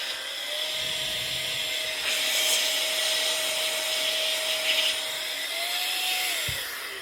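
A loud handheld electric blower whirs continuously with a high, steady whine and rushing air, its pitch rising briefly near the end.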